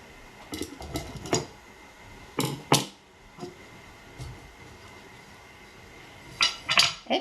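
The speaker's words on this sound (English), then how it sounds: "So I'll just pop that lid up." A can of clear polyurethane coat gets its metal lid pried open with several scattered metallic clicks and clinks, some sharp and close, with quieter ticks in between.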